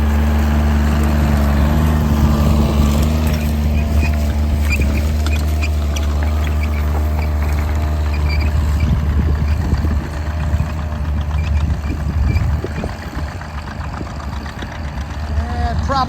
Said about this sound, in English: Good tractor, distinctive sound.